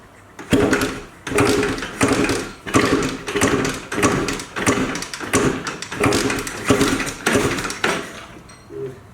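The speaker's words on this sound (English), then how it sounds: "So try kick it over and see if that's helped anything." Repeated kick-start attempts on a Suzuki 250cc two-stroke engine fitted to a Honda ATC trike, about eight loud, evenly spaced bursts of mechanical churning, each a second or so long, close up with no talk.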